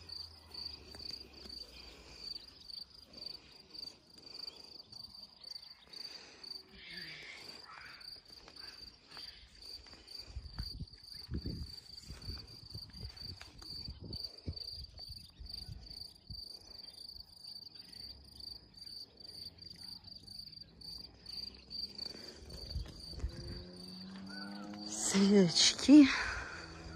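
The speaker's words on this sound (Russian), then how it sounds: "Сверчки." Crickets chirp steadily through the night in a steady high, faint pulsing trill, with scattered rustles and low thumps and a brief louder clatter near the end.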